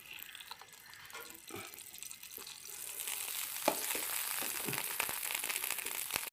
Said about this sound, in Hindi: और ये देखें मैं कैरेमल बना रहा हूँ और मैंने फ्लेम ऑन कर दिया, फ्राई पैन रख दिया।